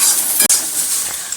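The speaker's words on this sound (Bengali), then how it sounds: "সয়াবিন ভাজা হয়ে গেছে" Soybean chunks fry in oil in a pan with a loud, steady hiss and sizzle, broken once by a brief stirring scrape near the middle.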